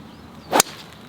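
A single sharp crack of a fairway wood, a TaylorMade SIM Max or Callaway Epic Flash Sub Zero, striking a golf ball, close and crisp with a quick fade, alone without talk.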